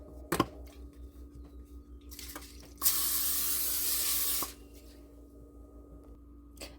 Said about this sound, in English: I'm going to spray my Reynolds wrap on my pizza pan.